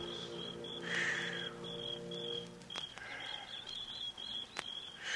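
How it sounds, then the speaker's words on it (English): Birds and crickets in an old-time radio drama sound effect: a steady cricket chirp with scattered bird calls, faint and continuous, with a droning hum in the first half. "The sound of birds and crickets seemed loud in my ears as we stood there"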